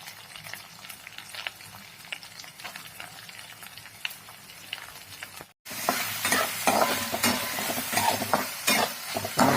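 Finely chopped onion sizzles and is stirred in a pan for a spring onion bhaji, a quieter fry with scraping strokes that jumps to a louder, fuller crackle halfway through, close and without talk.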